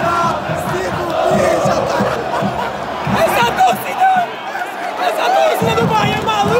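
Bahia football fans in a stadium cheer and chant together at a match against Ferroviário, a loud, continuous roar of massed voices with rhythmic swells.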